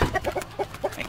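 Chickens in the horror video game Lakeview Cabin Collection let out a quick run of short, clipped clucks in an uneven rhythm, close and clear against a light game background.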